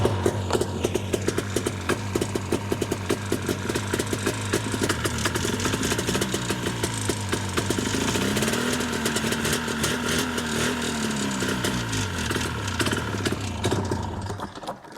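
Ski-Doo 377 snowmobile engine cranking and firing roughly as it tries to start, a steady fast mechanical chugging and rattling with uneven pulses throughout, close and loud, no voices.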